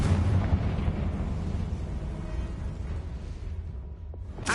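A Confringo spell blast in Hogwarts Legacy erupts as a loud, rumbling explosion that booms at the start and slowly decays over several seconds, ending with a short sharp burst.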